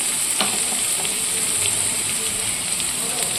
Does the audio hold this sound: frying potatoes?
yes